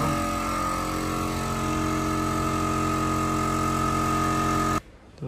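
A 5510 tractor fitted with new, taller front tyres idles close by. Its loud, steady, even engine drone runs unbroken, then cuts off abruptly just before the end.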